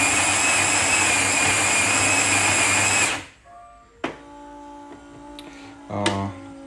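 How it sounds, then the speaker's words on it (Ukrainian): A Melitta Barista coffee machine with new grinder burrs grinds loudly in a steady high whine for about three seconds, then stops and gives way to quieter clicks, hums and brewing mechanism knocks. "Давайте зараз запущу приготування і подивимося, як же вона готує."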